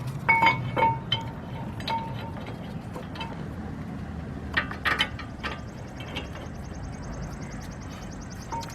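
Metal clinks and short ratchet-like clicks as a front brake caliper bracket is fitted on a 2003 Lincoln Navigator, scattered taps and knocks at close range over a quiet background.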